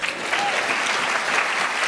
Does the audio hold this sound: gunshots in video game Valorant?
no